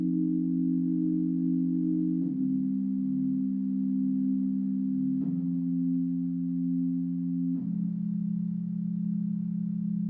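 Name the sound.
sine wave synth tone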